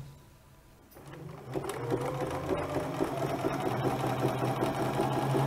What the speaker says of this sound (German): Und dann die Schulter mit Zickzack schließen.